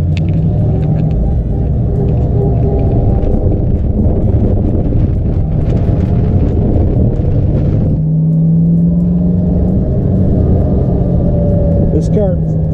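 A 1966 Sunbeam Tiger convertible rumbles along on a ride, its engine drone and road noise steady under heavy wind buffeting, with a brief shift in pitch partway through and people talking over it.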